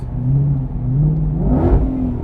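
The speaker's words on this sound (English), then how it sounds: "Can I still do the revving with the paddles while driving?" A loud sports car engine revs up and down in smooth swells via the paddles, close by, with a brief rising surge near the end.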